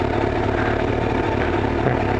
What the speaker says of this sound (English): this bike definitely revs a little bit more easily than my FJ